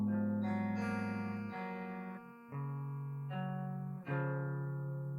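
Electric guitar playing a riff: several sustained ringing chords and two-string note pairs, each struck and held before the next, fairly quiet and alone.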